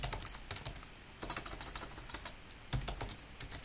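Fingers type a username and password on a computer keyboard, a quick irregular run of close, crisp key clicks with brief pauses between bursts.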